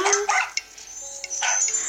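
A small dog barks and yips a few times in quick succession, with soft game sounds around it, in the video game Nintendogs + Cats.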